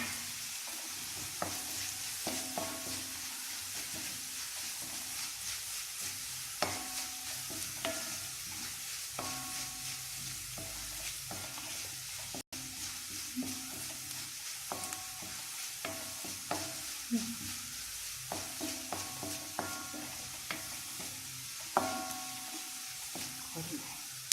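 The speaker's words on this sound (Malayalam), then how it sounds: "ഇഞ്ചിയും വെളുത്തുള്ളിയൊക്കെ നന്നായിട്ട് വഴന്നു വന്നിട്ടുണ്ട്" Ginger and garlic sautéing in oil with curry leaves in a pan for dried bitter gourd pickle, a soft steady sizzle broken by repeated scraping strokes of a spoon, close but fairly quiet, with a brief pause midway.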